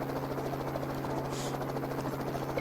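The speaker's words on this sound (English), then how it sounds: "休みだってのに、近くをヘリが低空しててうっさい。" A helicopter flies low overhead in a visual novel game scene, a steady loud droning whir with a constant low hum and rapid rotor pulsing throughout, alone without talk.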